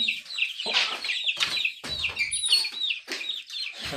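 Chickens and chicks cluck and chirp close by in a steady, busy run of overlapping calls, with a few louder squawks and no talking.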